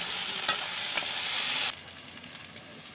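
Onion, dried chilies, bay leaf and ground spice paste sizzle in oil in a village kitchen with stirring scrapes, the frying loud at first and then dropping to a softer crackle.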